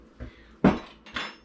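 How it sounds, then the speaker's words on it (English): Utensil clinking against a bowl or dish while mixing jalapeno-flavored food with hot sauce, three separate knocking scrapes in a quiet room, close and moderately loud. "And then we'll just mix that up."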